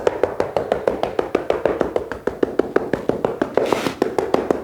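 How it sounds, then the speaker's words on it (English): A wood float tamps down a freshly pulled mortar bed for a shower drain installation, producing a rapid, even series of close, dull tapping knocks, about five per second, steady throughout with no talking. "I'll take my wood float, just give it one more little tamp"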